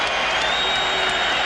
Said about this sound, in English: Vince was off his feet, and so is this crowd.